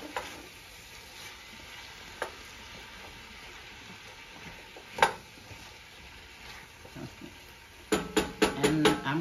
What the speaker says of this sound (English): Okay, I'm gonna put the tomato in there now.